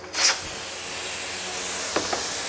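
Steam hisses steadily from a pressure cooker just taken off the flame after cooking masala, a loud broad rush with a sharp burst at the start and a couple of small spurts near the end.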